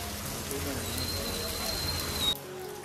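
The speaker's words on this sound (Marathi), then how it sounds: "येतं वाटेत पावसाने गाठलं, शेवटी भिजवून टाकलं" Steady rain falls on a village in the Konkan region at evening, a dense even hiss of drops that continues for most of the moment and then stops abruptly near the end.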